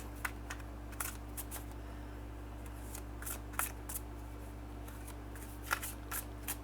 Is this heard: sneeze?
no